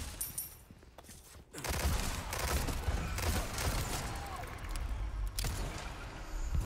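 Rapid bursts of gunfire in Resident Evil 4 Remake crackle almost continuously, loud and close, with brief pauses between volleys.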